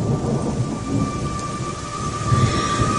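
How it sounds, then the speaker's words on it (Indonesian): Heavy rain pours steadily with deep rumbling thunder and gusting wind, a dense, continuous storm texture at fairly loud level throughout, with a faint steady tone running underneath and no voices. "tiba-tiba hujan mulai turun deras, disertai dengan angin yang berhembus sangat kencang"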